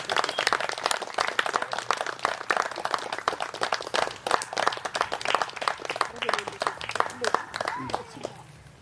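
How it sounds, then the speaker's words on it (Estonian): A crowd claps steadily throughout at a Viking-themed wedding, dense continuous applause with a few cheers, moderately loud and filling the space, with voices blending in toward the end. "Üks aplaus palun minu sõbrale!"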